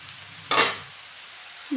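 Mixed vegetable thoran being stirred in a pan after a half-cooked rest: a single brief scrape-and-sizzle burst near the start, then quiet steady frying hiss with a small clink at the end.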